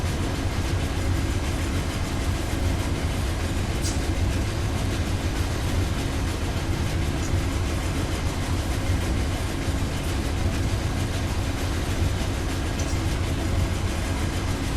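An Amtrak Silver Meteor passenger train running at speed in the Run 8 Train Simulator game makes a continuous, steady rumble of wheels and engine, with faint rail clatter throughout.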